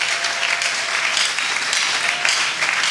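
A church congregation claps steadily together, a dense, even round of applause with a few brief swells, held at moderate volume and continuing without pause.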